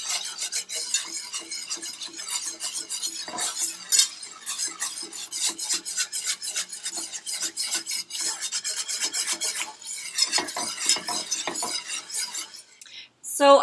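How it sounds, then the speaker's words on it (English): A whisk beats cheese sauce for macaroni and cheese in a pot, making steady fast scraping and rattling strokes against the metal, close and continuous, with no talking. "So I've whisked my sauce until it's completely smooth and there are no more clumps."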